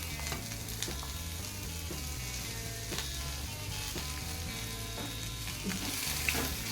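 Tomatoes and curry leaves frying with already-browned onions in a pan for onion chutney: a continuous close sizzle with occasional scraping stirs and small pops.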